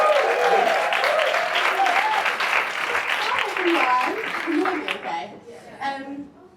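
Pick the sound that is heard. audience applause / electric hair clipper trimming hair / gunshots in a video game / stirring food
audience applause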